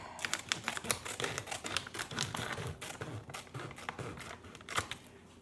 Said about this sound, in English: I'm going to do a clean cut on the bag